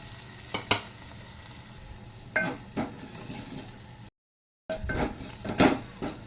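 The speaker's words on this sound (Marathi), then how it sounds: "आता बघता एकदम लसूण आपला एकदम खरपूस भाजला गेला." Crushed garlic with asafoetida sizzles and crackles in a pan, with a few stirring scrapes and spatters rising and falling, close and alone without any voices.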